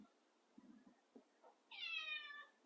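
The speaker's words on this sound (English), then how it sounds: "That's a cat." A cat gives a single clear meow near the end, after a few soft scuffs and taps in a quiet indoor space.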